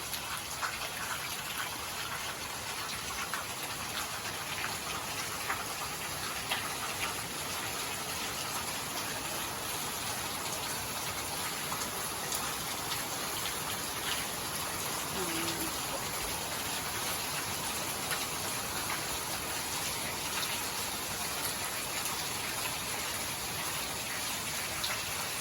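Steady rain falling, a constant wash of hiss and patter that fills the background evenly throughout without any pauses.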